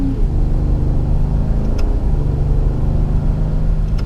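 A 2017 Ford F-150 Raptor pickup under light throttle while driving, a steady loud low engine rumble and road drone throughout with no voices.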